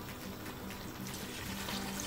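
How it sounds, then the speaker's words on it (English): Water poured into a pan of chicken chow mein with vegetables as it cooks, a steady soft splashing trickle that runs continuously and fairly quietly throughout. "So at this time, I'm adding my water again."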